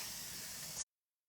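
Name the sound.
spray cleaner on a screen-printing screen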